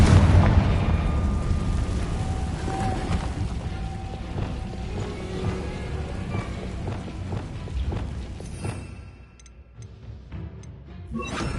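The Confringo fire spell in Hogwarts Legacy gameplay sets off a string of booming blasts and crackling impacts, loud at first and easing slightly, with sharp game effects sounding near the end.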